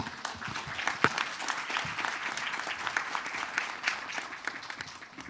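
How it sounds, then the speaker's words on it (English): An audience at a world bio summit applauds, dense and continuous clapping heard from a distance at moderate volume, with no voice over it. "let's give another big round of applause to His Excellency"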